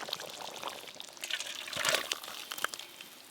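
Stuffed pointed gourd dolma gravy poured out of a pan, a soft, uneven wet trickle that swells briefly midway before thinning out.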